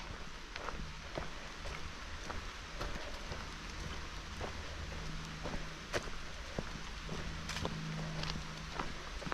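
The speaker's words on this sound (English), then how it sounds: "Hopefully it just stays a nice light rain like this, so I don't have to get my poncho out." Light rain falls on a hiking trail along the Appalachian Trail in Connecticut, a soft continuous patter with scattered sharper drops, steady and fairly quiet throughout.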